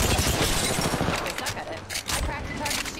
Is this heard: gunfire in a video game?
yes